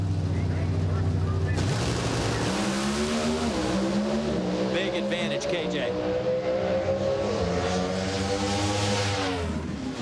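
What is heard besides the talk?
NHRA drag race cars racing down the strip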